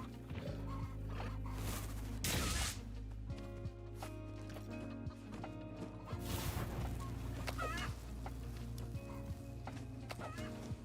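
Chickens cluck softly in a video game, scattered short clucks over a low humming backdrop, with occasional footstep-like clops and no talk.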